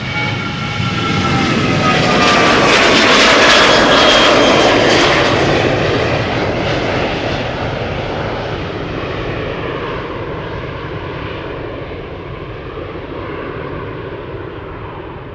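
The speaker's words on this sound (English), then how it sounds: "This is KLM flight 927 to Edinburgh" KLM Boeing 737-900 jet airliner departing for Edinburgh from Schiphol, its engine roar swelling loud and close with a whining tone, then slowly fading as it climbs away.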